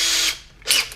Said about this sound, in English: what I'm going to do is put a 1/8 inch drill bit in my drill